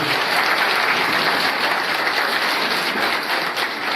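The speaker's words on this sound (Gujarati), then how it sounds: "તો તેમને ખૂબ ખૂબ તાળીઓથી અભિવાદન કરીએ." An audience at a school educational ceremony in Porbandar claps to welcome a guest, dense sustained applause filling the whole stretch at an even, fairly loud level, with a murmur of voices faintly underneath.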